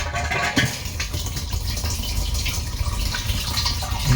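Water runs steadily into a campervan water tank through a newly fitted automatic cut-off, a constant close rushing trickle with a faint knock near the start and no voices.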